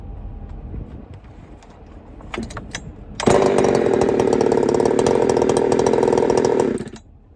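A ported Jonsered 2159 chainsaw with a full-chisel Oregon chain cuts desert wood. It idles and blips a few times, then roars loud and steady at full throttle through the cut for about four seconds before dropping back.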